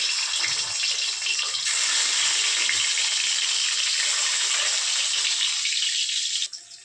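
A boiled egg sizzles in hot oil with turmeric, a bright, steady crackling hiss that carries on evenly before cutting off at the end.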